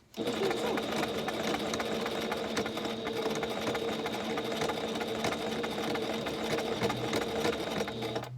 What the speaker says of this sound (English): Bring the needle back down.